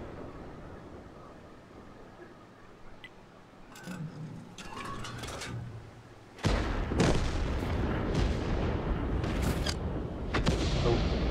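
Heavy tank cannon fire in World of Tanks, a quieter rumbling stretch broken by sharp reports before a loud blast kicks off a denser run of booming shots and impacts, with faint talking in the background.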